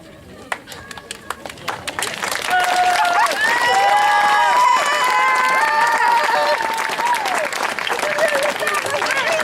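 An audience at a speech bursts into sustained applause after a few scattered early claps, loud and steady, with voices talking over it.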